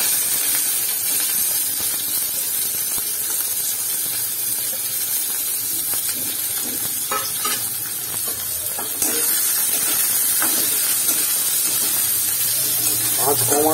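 Onion dropped into hot oil already seasoned with five-spice (panch phoron) over low heat, giving a steady, loud sizzle and hiss that swells slightly partway through, with no speech over it.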